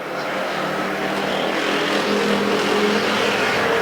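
Factory stock race cars roar off together at the green flag of a heat race at Perris Auto Speedway, a loud, dense, continuous engine blare that builds slightly as the pack accelerates.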